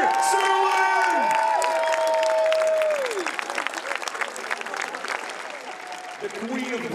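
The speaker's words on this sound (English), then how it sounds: "ladies and gentlemen of Brussels, can I have a round of applause" A crowd at a UCI BMX freestyle park finals event in Brussels applauds and cheers the winner: loud, dense clapping with whoops and shouting, an amplified voice over it early on, then the applause thinning and fading.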